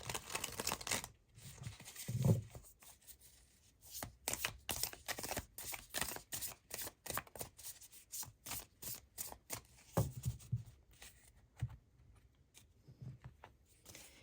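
Mystical Shaman tarot cards being shuffled and drawn make a rapid run of crisp, close papery flicks and riffles, with short pauses between bursts and no talking.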